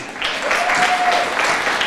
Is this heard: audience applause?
yes